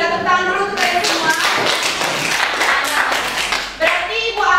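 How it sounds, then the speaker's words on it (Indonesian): Schoolchildren in a classroom clap together in a loud, close burst, the dense patter of many hands lasting several seconds, with children's voices briefly rising over it at the start and end. "tepuk tangan dulu untuk kalian semua."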